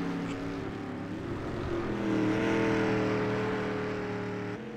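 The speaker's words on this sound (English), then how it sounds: "Looks like the street stocks on track." Street stock race cars on a dirt track in the iRacing video game, engines droning and rising in pitch as they accelerate past, a continuous rumbling roar that swells midway then eases.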